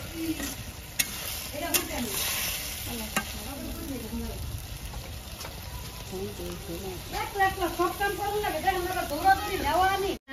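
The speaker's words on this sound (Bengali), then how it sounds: "মাছটা দিয়ে একটু একটু কষাই দিচ্ছি" Fish sautéing in a pan gives a steady sizzle with bursts of stirring, while someone talks over it.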